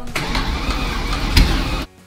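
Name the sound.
Lamborghini Murcielago engine cranking, almost starting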